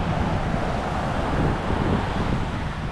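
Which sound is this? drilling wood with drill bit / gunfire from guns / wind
wind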